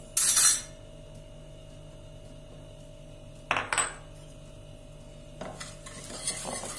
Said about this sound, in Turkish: ocağa almadan şurada şöyle bir çırpıyorum